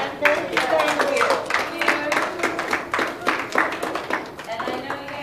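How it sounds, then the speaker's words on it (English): An audience applauds with quick, uneven hand claps for a painter after an oil portrait painting event, close and lively with a pulsing rhythm, with voices mixed in underneath. "A huge round of applause for Sharon."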